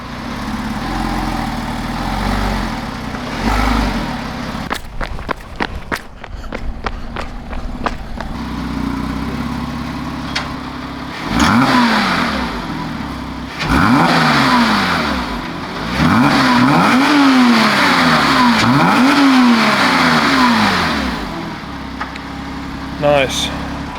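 A stock 2006 Porsche Cayman S engine idles with a low rumble, then revs repeatedly in rising and falling bursts, loud and close, with voices speaking briefly.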